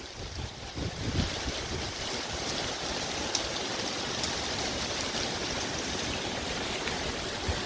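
Storm surge water rushes during Tropical Storm Claudette at Dauphin Island, a continuous, fairly loud churning wash mixed with gusty wind buffeting the microphone.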